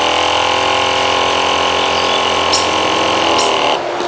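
A Harbor Freight 15-gallon spot sprayer set up on a tractor pumps and sprays with a loud, steady mechanical whine and hiss that cuts off abruptly near the end.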